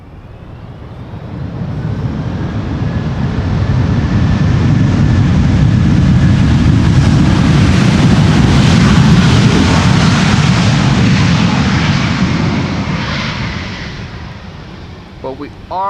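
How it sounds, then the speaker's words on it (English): A jet airliner roars past on landing at Schiphol's Polderbaan with thrust reversers engaged. Loud broadband rumble swells over two seconds, holds steady, then fades near the end. "we are getting a bit of reverser action"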